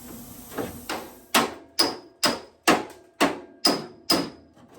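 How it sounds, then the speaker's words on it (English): Sharp metallic hammer blows on a 1963 VW Beetle dash being grafted into a 1972 Super Beetle, about nine strikes at a steady pace, each ringing briefly before the next, close and fairly loud. "We're going to hammer this out a little bit here"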